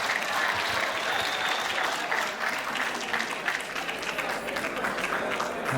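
An audience applauds for Nick Ngendahayo at a live event, sustained dense clapping from a crowd throughout, fairly loud and close.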